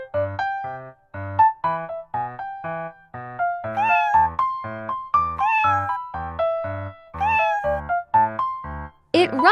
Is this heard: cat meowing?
yes